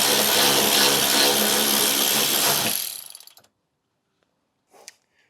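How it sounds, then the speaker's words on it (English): A loud, rapid ratcheting clatter runs for about three seconds as a ratchet undoes the brake compensator nuts on a Mk2 Volkswagen Golf, then fades out, followed by silence and a brief faint clink. "let's see how much trouble those nuts on the compensator are going to give us to undo"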